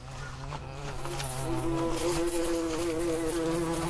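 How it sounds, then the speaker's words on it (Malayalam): A housefly buzzes close by, a steady droning hum that wavers in pitch as it circles, alone with no talk. "ഈ ഈച്ചയെ കൊണ്ട് ഭയങ്കര ശല്യമാണല്ലോ."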